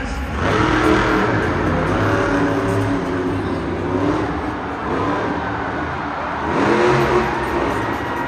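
A monster truck engine at a Monster Jam stadium event growls and revs in long, loud swells, rising and falling twice, with a constant heavy rumble underneath.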